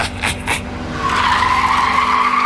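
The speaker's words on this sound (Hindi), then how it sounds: "ब्रेक की तेज आवाज और फिर जीप पलट जाती है।" Loud tire screech as a jeep brakes hard, a rising sustained squeal following a couple of short thumps, close and intense with no voices.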